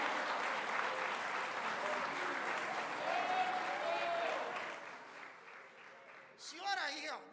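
A church congregation claps steadily during a campaign worship service, dense sustained applause that thins out near the end, with a few voices rising over it in the last second.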